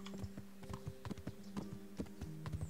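Rhythmic horse hoofbeats in the video game Kingdom Come: Deliverance clip-clop steadily at a walking pace, with a low steady hum and a faint tone running underneath.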